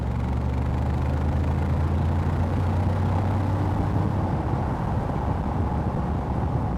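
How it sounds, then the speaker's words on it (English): A 2020 Mercedes G63 with its V8 BiTurbo in sport mode and the sports exhaust open gives a steady, deep engine rumble that stays even throughout, with no talking. "Now it's in sports mode. Sports exhaust is turned on."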